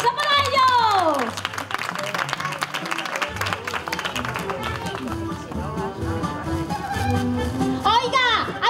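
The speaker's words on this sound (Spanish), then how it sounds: "¡Un aplauso para ellos!" Applause and clapping from a children's theatre audience greeting the clowns, a steady crowd clatter under music, sliding whistle-like tones and a presenter's voice.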